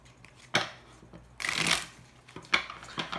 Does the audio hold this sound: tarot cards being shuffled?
yes